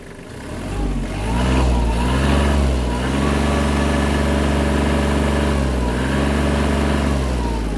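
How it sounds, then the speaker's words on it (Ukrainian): The small engine of a Japanese Kubota KL-25 mini tractor runs steadily and loud, its pitch rising as the revs climb and then holding at a higher, busy drone. "Давайте додам ще обертів."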